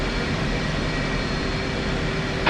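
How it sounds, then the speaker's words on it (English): The left engine of an aircraft in the flight simulator DCS World keeps running after shutdown is attempted, a steady, loud broadband roar with a constant tonal hum and no talking. "For some reason, my left engine doesn't want to shut off."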